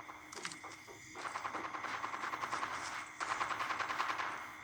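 Gunshots in a video game come as fairly quiet rapid automatic bursts, sounding steady and repeating with short pauses between them.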